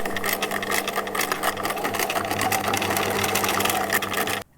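A sewing machine stitches fabric seams about 7 mm from the edge for a hand-sewn sailor cap, a loud, rapid, steady mechanical whir that runs continuously and stops abruptly at the end.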